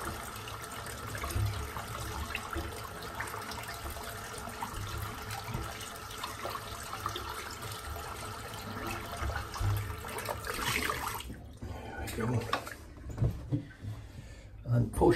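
Tap water running as soap is rinsed out of a Wolf Whiskers custom shaving brush at a sink, a steady moderate flow that splashes and breaks up more unevenly near the end.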